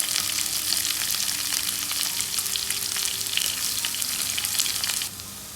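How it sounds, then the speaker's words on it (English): Onion, ginger and garlic sautéing in hot oil in a pan, a dense crackling sizzle with popping bursts that holds steady and close, then drops abruptly near the end; no talking. "Now add in the onion. Ginger garlic and saute well."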